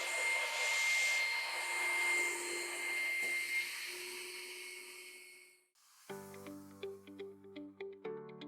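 An UNPIT additive manufacturing machine running its process, a steady whining, blower-like mechanical drone that slowly fades, then gives way to a rhythmic series of short tonal pulses and beeps.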